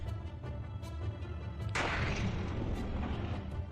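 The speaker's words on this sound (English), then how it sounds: "A flash of bright light streaked across the sky with a drastic sound of explosion." A meteor exploding in the sky over a Russian city: a sudden loud broadband blast hits after a steady rumble, then a sustained roaring, crackling wash that stays loud to the end.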